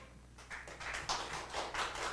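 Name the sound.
congregation applauding a pastor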